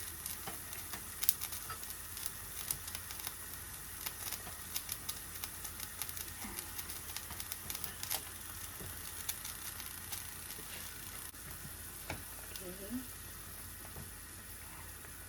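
Leftover fried fish sizzling in a pan for fish sarciado, a soft steady crackle with scattered small pops throughout, close by and fairly quiet with no talk.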